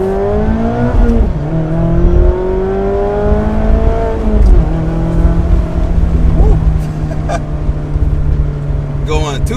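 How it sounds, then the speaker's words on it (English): A 2024 Mazda Miata ND3 with a new aftermarket exhaust drones loudly and close, its engine note rising and falling as the car revs and accelerates along the road. "And this exhaust, it actually transformed the car."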